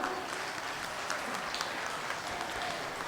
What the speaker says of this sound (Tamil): எல்லாரும் அவங்களுக்கு நம்மளுடைய உற்சாக கைத்தட்டலை தெரிவிக்கணும்னு நினைக்கிறோம்